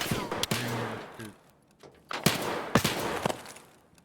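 Gunfire in Escape from Tarkov, with several sharp shots and short bursts scattered across a few seconds, some close and loud, others further off, mixed with game noise.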